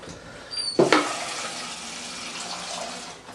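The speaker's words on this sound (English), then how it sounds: "Let's put some water in there, because you've got to cook them in water." Tap water runs into a cooking pot, starting with a sharp gush and splash before settling into a steady, close pouring stream.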